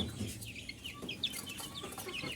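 A mixed-breed batch of chicks peeps and clucks in quick, high chirping bursts, several birds close by and overlapping through a short stretch with no talk.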